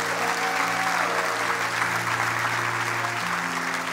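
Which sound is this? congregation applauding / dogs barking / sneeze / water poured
congregation applauding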